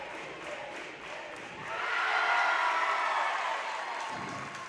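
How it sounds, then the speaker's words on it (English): Basketball crowd at a boys varsity regional final in a packed gym, a broad sustained roar of chanting and cheering that swells louder midway and holds, with no clear talk over it. "I think it's Andrew Davis here, AD, the crowd is chanting."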